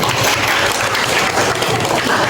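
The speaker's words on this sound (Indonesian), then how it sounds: "Oke, berikan aplaus dulu." A crowd at a gathering claps steadily together, a dense, loud wash of applause that holds evenly from start to finish with no break.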